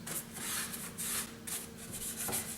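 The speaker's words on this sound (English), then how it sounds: "So I'm just gonna spray it on and just liberally apply it everywhere and just wipe off the excess." A cloth wipes diluted detailing spray off a Corvette engine bay in close, brisk rubbing strokes, with bursts of swishing friction repeating steadily and no voices.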